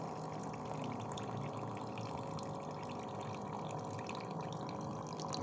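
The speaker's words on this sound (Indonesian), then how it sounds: "Kalau kurang ini bisa kita tambahkan air lagi." Water pours steadily and continuously into a container while daphnia feed is being prepared, making a constant rushing sound with no talk.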